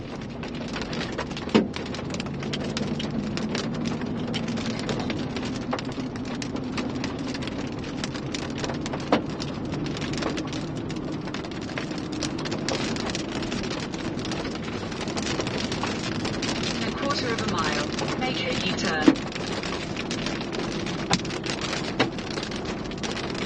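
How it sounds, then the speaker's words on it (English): Small pea- to dime-sized hailstones falling during a severe Texas storm, a dense continuous patter with scattered sharper impacts, steady and close, with no voices. "Some small, like, pea-sized to penny-sized hailstones."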